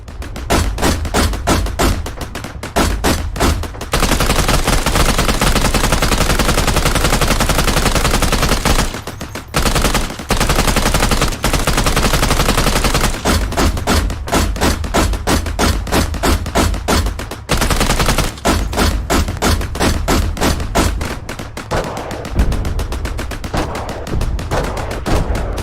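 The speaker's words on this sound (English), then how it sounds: "by the relentless barrage from the Ukrainian and American forces" Battle barrage of gunfire and explosions as Ukrainian and US forces with tanks and M2 Bradleys attack at Kursk: dense, loud, sustained bursts of rapid shots and heavy thuds with only brief pauses.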